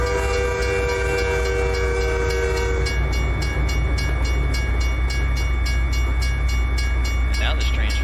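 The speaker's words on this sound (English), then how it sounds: "And now this train's flying by." A train rushes past in the American Truck Simulator trucking game, with steady rail rumble and a sustained horn-like tone over the engine drone of a Jon Ruda Peterbilt 389 truck, loud and continuous.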